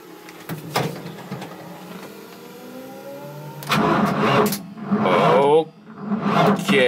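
A BMW E36 with a dead battery is cranked, giving a weak whirring start attempt followed by louder, uneven bursts of churning engine noise under quiet talk.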